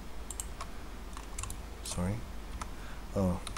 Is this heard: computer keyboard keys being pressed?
yes